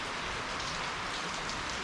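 Steady rain hisses down outdoors on a street in De Groot-en-Klien, Guyana, an even dense patter with no breaks and no talking.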